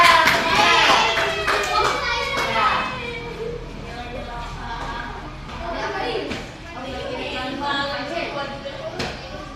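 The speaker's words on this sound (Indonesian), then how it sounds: "Tepuk tangan untuk kelompok 2." Children in a classroom clap for a student group, the loose patter strongest at first and then thinning, while lively children's chatter and voices carry over and around it.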